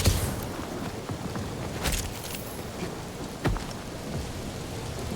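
Steady rain falls across a scene in the video game Marvel's Guardians of the Galaxy, a dense continuous patter with a couple of soft rumbling thunder-like swells, no voices over it.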